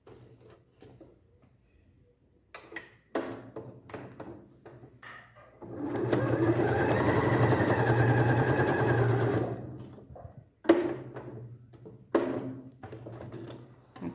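Sewing machine stitching a gathered sleeve with elastic: a steady, fast mechanical whir runs for about four seconds amid quieter handling clicks and taps.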